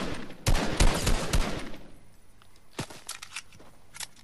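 Bursts of rapid gunfire from Fortnite, a dense volley of loud shots at the start, then scattered single shots and short bursts further off, with no talking.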